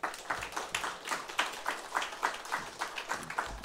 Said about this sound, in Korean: 나오실 때 따스한 박수로 환영하도록 하겠습니다. 박수하겠습니다.